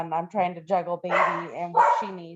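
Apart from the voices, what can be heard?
dogs barking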